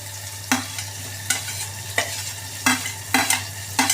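Chopped onion sizzles in a hot pan with green chili and ginger while a spoon scrapes and stirs it in repeated quick strokes, each scrape sharp and close over a steady low hum.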